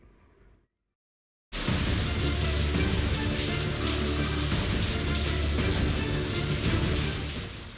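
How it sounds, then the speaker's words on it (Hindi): Heavy pre-monsoon downpour in Indore, Madhya Pradesh, a loud, dense, continuous roar of rain hammering surfaces that starts abruptly after a brief silence and holds steady throughout. "जून के महीने में मध्य प्रदेश में झमाझम बारिश हो रही है।"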